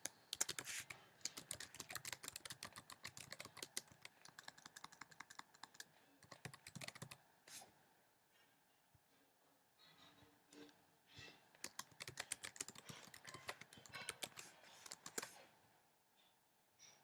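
Fast typing on a computer keyboard, dense bursts of close clicking keystrokes with short pauses, alone without voices.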